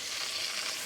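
Food sizzles on a hot cooking stone at an overlanding campsite near Knob Hill, Nevada, a close, even hiss of frying that runs without a break through a brief moment.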